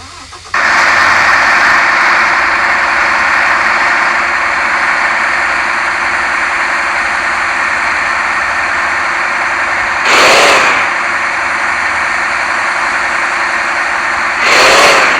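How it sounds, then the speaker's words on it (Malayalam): An Ashok Leyland Viking 12 m bus with a Zed Astra body cranks and catches, then settles into a loud, steady diesel idle close by, with two short surges where the engine swells briefly. "അപ്പം നമ്മുടെ ലൈലൻഡിൻ്റെ സൗണ്ട് ഒന്നും പറയാനില്ല"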